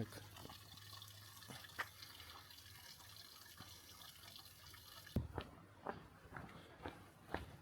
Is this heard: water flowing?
yes